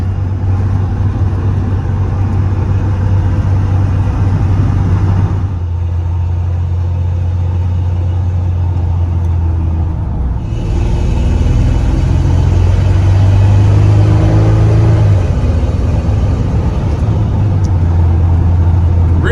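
A 1947 Chevrolet 3100 Thriftmaster pickup's V6 engine hums steadily from inside the cab, then its low rumble rises and climbs in pitch as it accelerates, loud and continuous.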